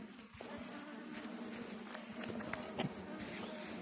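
A steady, low buzzing hum of many honeybees at a hive surrounds the listener, with faint scattered taps and rustles in the background.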